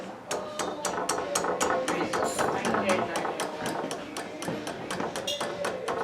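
Light metallic taps drive a part into an engine cylinder until it seats against the circlip. The taps form a fast, steady series of sharp, close knocks in a workshop.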